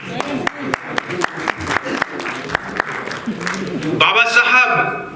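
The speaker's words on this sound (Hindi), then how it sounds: "जोरदार ताली हो जाए।" An audience at a talk on the Indian constitution claps in sharp, evenly spaced bursts that swell into fuller applause toward the end, with a voice audible over it.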